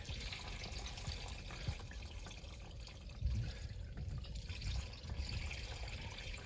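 Water runs and splashes steadily as it drains out of a 1986 Ford F250 with a 6.9 turbo diesel engine, a quiet continuous trickle with a few small gurgles and no voices.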